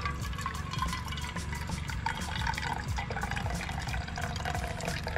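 Hot water pours steadily over coffee while camping in a continuous trickling stream, with light splashing and dripping throughout and no talking.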